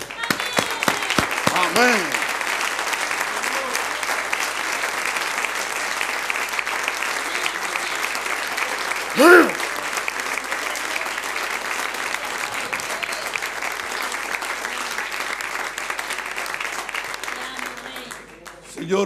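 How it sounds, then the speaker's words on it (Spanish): A church congregation at an evangelical service in Santiago, Chile, gives long, continuous applause with scattered voices and a spoken exclamation over it, the clapping steady and full throughout before fading near the end. "Y ahora quiero un aplauso, un ánimo"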